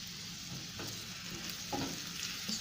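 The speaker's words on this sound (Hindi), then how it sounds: "इसको भी 2 मिनट के लिए सौते करेंगे हम।" Garlic and spring onion greens sautéing in a pan, a soft steady sizzle with a few stirring scrapes, fairly quiet and without voices.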